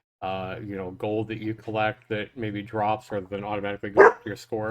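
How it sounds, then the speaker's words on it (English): A pet dog lets out a single short bark near the end, partly buried under a man's steady, continuous talking. "excuse my dog, guys"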